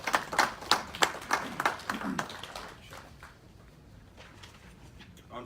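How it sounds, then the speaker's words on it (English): An audience at a city council meeting gives a round of applause: brisk, close clapping for about two seconds that thins out and fades to quiet room tone. "There you give Chad a round of applause."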